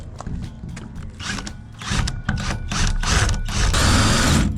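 A power drill whirs in uneven bursts as its bit drills into steel, motor and grinding bite rising in intensity and holding steady toward the end, close and loud.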